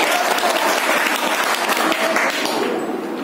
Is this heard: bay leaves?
no